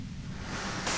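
White noise in the video game Disco Elysium, a brief steady hiss of static with broadband rushing, brightening slightly at the end, alone and fairly quiet.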